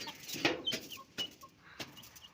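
Country chickens cluck in short, scattered calls, close and moderately loud, with a few sharp knocks and faint background sounds.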